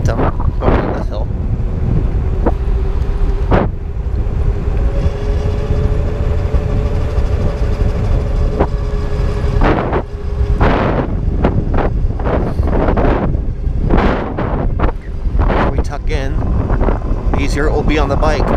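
An Ariel Rider X-Class 52V e-bike with Shinko 241 tires rides uphill, its sound buried under loud, continuous microphone wind buffeting with gusty bursts throughout; a voice talks now and then.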